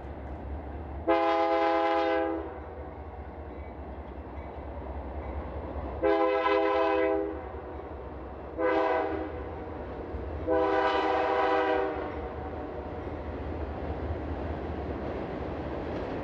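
Freight train of oil tank cars led by Dash 9 diesel locomotives on a Wisconsin line along the Mississippi, sounding its horn in four loud blasts, two long and two shorter, over a steady low rumble of the train.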